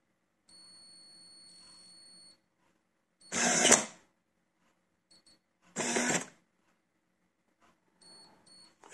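An electronic lock cylinder motor turns in two short, loud whirring bursts a couple of seconds apart, close up, with faint beeps and quiet gaps between.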